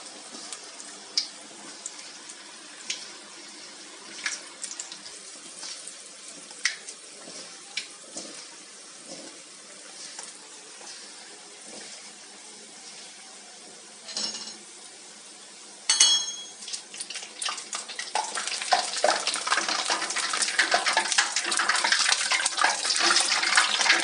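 Lokma dough balls deep-fry in hot oil until crisp, Turkish İzmir-style saray lokması cooked in two stages. A soft, steady sizzle with scattered clinks gives way to a louder, denser bubbling hiss in the second half. No voices.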